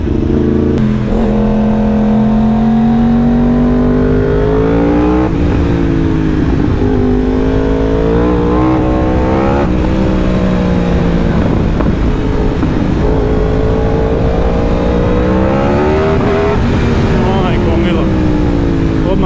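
A fast motorcycle ridden through Thailand roars close by, its engine pitch rising and falling in repeated accelerating surges for the whole stretch, with wind buffeting the microphone and a rider talking over it.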